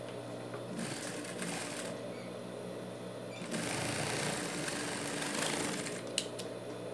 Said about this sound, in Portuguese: Vou costurar as pontinhas. De dois em dois.